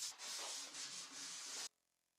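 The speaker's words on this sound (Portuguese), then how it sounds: "lixei com lixa 400 para deixar tudo liso de novo" 400-grit sandpaper rubs over a dried wood finish on an extensible dining table between coats, making soft rhythmic hissing strokes, close and quiet, that end abruptly into near silence.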